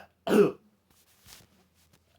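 A person coughs and clears their throat: one loud, rough burst, a faint rasp about a second later, then another sharp cough at the end, with silence between.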